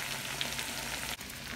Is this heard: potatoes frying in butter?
yes